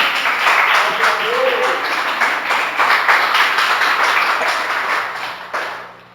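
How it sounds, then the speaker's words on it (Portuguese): Church congregation applauding together, a steady dense wash of clapping lasting several seconds at fairly close range, fading out at the end. "Você pode dar aplauso ao Senhor Jesus?"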